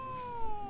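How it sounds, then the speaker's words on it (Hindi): A single cat meow from The Witcher 3 video game, a clear drawn-out tonal cry lasting under a second, loud and close, with no talking over it. "ओह, बिल्ली,"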